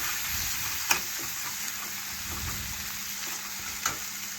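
Onions with spices frying in a pan while being stirred with a spatula, a steady sizzle throughout with two distinct scrapes or knocks of the spatula against the pan.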